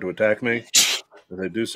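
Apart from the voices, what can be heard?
sneeze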